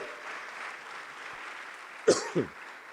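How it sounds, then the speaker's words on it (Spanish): A church congregation claps in a steady, diffuse wash of applause, with a couple of sharper close sounds like coughs near the end. "Dele fuerte las palmas al Señor si son para Él."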